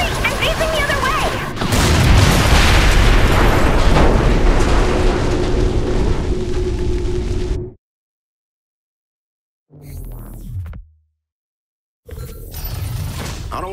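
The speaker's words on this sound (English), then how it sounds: "I just blew up a capital ship" A capital ship blowing up in Saints Row IV, a loud sustained roaring blast with rumbling debris that cuts off abruptly, followed by short bursts of game sound.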